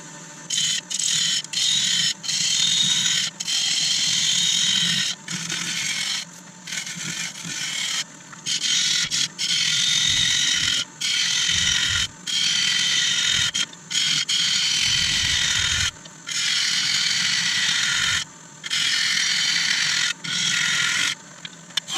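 A wood lathe turns an iroko vase at about 750 RPM, with loud, close mechanical whirring and scraping that comes in repeated bursts broken by short silences.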